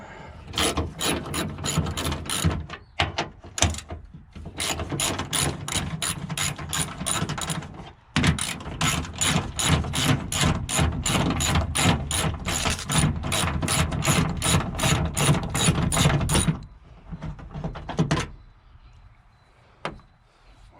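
Ratchet spinning bolts out during a breakdown repair, a long run of rapid, loud, close clicking ratchet strokes broken by a few short pauses, then tapering to quieter intermittent clicks near the end.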